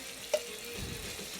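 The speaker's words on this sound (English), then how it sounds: "This is like sizzling." Green vegetables sizzle in a hot pan on a stove, a steady low crackle and hiss with one brief sharper pop near the start.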